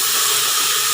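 Onions go into a hot pan and a loud, steady sizzling hiss fills the moment, close and unbroken, with no voices over it.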